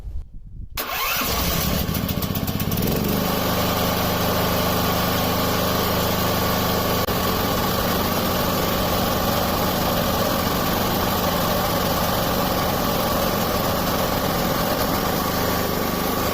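A natural-gas generator engine cranks and catches within the first second, then runs loud and steady close by with no talk.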